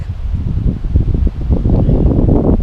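Strong wind in El Chaltén, Argentina, buffets loudly and continuously, a heavy low roar with gusts that swell toward the end, close and overwhelming with no voices.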